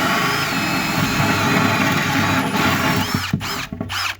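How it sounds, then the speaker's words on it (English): A power drill with a hole saw grinds steadily through the metal wall of a food truck trailer, a loud continuous whir that sputters and cuts out near the end. "You're literally going to drill through your trailer."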